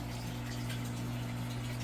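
Water rises through an aquaponics grow bed of clay pebbles, a faint, steady pumping hum with soft trickling filling beneath it, quiet and continuous.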